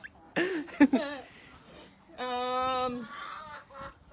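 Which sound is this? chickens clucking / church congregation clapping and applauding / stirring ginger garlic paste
chickens clucking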